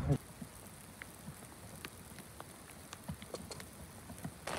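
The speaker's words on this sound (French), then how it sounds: "il pleut des cordes, enfin des cordes peut-être pas, mais en tout cas il pleut bien" Steady rain patters on a golf course, with scattered drops ticking sharply on a surface, fairly quiet and continuous, with no voices.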